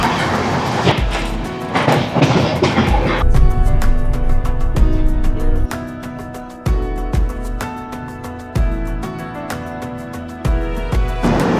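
A train rolls through the green tea garden valley of the Dooars toward Madarihat station, its wheels clattering over rail joints in a steady, rhythmic clickety-clack that stays loud and close, with no voices.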